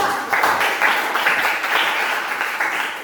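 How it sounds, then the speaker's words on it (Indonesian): A class applauds a student group during a classroom teaching session, giving a dense, steady round of clapping close by for about three seconds. "Yuk, tepuk tangan untuk kelompok 3."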